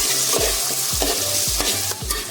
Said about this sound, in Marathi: आता आपण जरा कांद्याला परतून घेणार आहोत